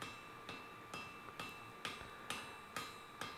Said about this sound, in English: here is the piece of spring steel which I'll be using for the high carbon steel edge. And to start with, I am just going to